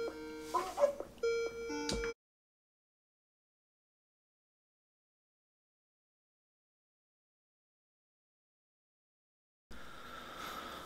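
A telephone rings with short electronic beeping tones for about two seconds, then the sound cuts to silence before faint noise returns near the end.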